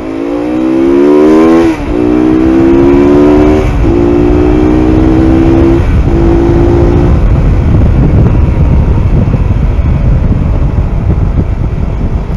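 A Mondial RX3i Evo 250 motorcycle accelerates hard through several gear changes, its engine note climbing and dropping between shifts, then settles into a rougher, crackling exhaust rumble with pops as it slows on engine braking.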